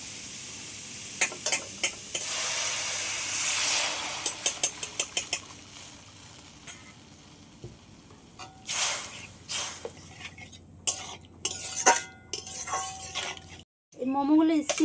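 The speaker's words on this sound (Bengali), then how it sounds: "এবার আমি জল দিয়ে দেবো।" Vegetable momo filling fries in a pan as water is poured in, giving a bursting hiss and sizzle with clinking utensil strokes and stirring, fairly quiet and close.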